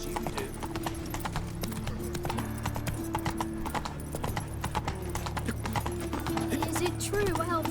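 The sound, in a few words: horse Roach clip-clopping in video game The Witcher 3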